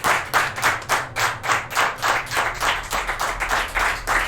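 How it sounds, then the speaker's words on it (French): Loud, close, steady rhythmic clapping from a small group, about three claps per second for several seconds, during a French Halloween live stream show. "De l'applaudissement pour tous nos viewers."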